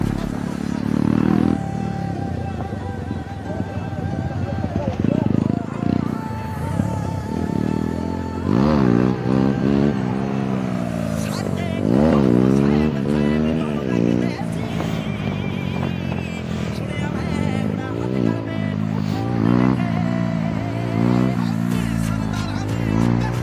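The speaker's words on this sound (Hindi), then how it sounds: "व्हीली चेक करो बिट्टू भाई की बाइक की" A Yamaha R15M motorcycle revs repeatedly during a roadside wheelie, its engine rising and falling in pitch in several surges, with people talking throughout.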